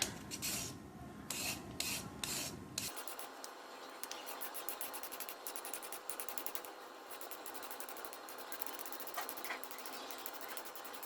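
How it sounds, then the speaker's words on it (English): A carrot is scraped on a grater for a yee sang salad, a rapid rasping rhythm of short strokes that runs steadily and close after a brief louder opening, with no talk. "Now I'm going to scrape the carrot."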